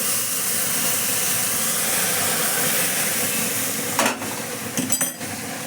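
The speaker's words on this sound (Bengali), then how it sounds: "এই দেখো কি ফুটছে।" Milk boiling together with roasted semolina in a pan gives a steady bubbling hiss, joined near the end by a few brief scraping stir sounds.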